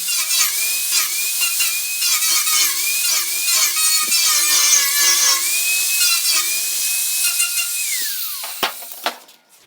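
A grinder takes a crowned weld bead off metal: a loud, high whining grind that holds with shifting pitch as it bites, then spins down, followed by a few sharp knocks.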